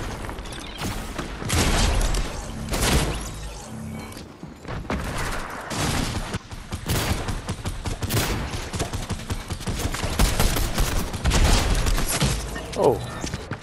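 Loud, dense gunfire from a Fortnite match, with many overlapping shots and bursts including shotgun blasts. Game effects and a voice run underneath.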